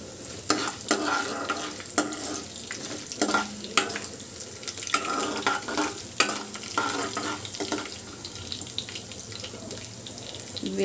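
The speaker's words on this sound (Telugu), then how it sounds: "మినపప్పు కొంచెం ఫ్రై చేసుకున్నామండి లైట్గా. అందులోనే ధనియాలు కూడా వేసుకున్నామండి." Urad dal and coriander seeds fry lightly in a pan, a quiet bed of sizzling broken by intermittent scraping and stirring knocks.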